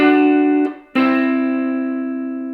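A blues electric guitar lick: sustained notes ring out with a brief break, then a bent, distorted note holds and slowly decays, played alone with no talking.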